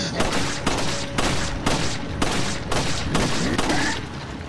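Gunfire at a boss in the video game Resident Evil 4, heard as a series of about eight loud, sharp shots at roughly half-second intervals, each with a brief ringing tail.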